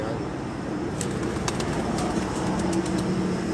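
Pigeons on a village rooftop in Jalalpur Bhattian, Hafizabad, give faint scattered flutters and soft coos over a steady outdoor background hum, with no talking.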